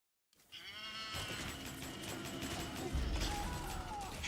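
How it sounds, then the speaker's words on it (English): The Gecko walker from Metal Gear Solid 4, a game sound blending cow moos and cicada buzz: after a short silence, a creaking mechanical groan rises into a long, warbling, moo-like bellow with buzzy overtones, fairly close and loud. "The gecko, of course, uses a combined sound of cows and cicadas"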